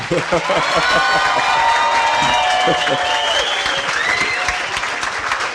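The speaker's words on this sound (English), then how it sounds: "I think we got to give BJ a round of applause" A studio audience bursts into a loud, sustained round of applause and cheering for BJ on a Milwaukee Brewers sports talk show, with steady dense clapping and voices mixed in throughout.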